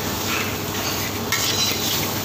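Steady hissing sizzle with scraping and stirring as pad thai noodles are stir-fried in a very hot wok, continuous and close, no voices.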